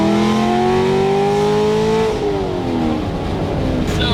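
A Chevrolet C7 Corvette, a front-engine rear-wheel-drive sports car, accelerates close by with a loud engine note rising steadily in pitch, then dropping sharply after a shift and climbing again.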